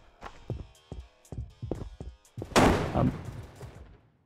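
A sequence of sharp gunshots and thumps in a Battlefield 2042 team deathmatch, followed by a louder grenade blast with a crackling burst and decaying rumble, close and punchy, without speech.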